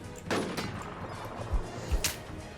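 Gunfire in the video game Infestation The NewZ, a few separate sharp shots with low thuds in between, fairly faint and spread over a couple of seconds.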